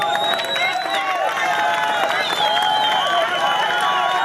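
An audience at an award ceremony claps and cheers steadily throughout, a continuous wash of applause from a large crowd with voices mixed in.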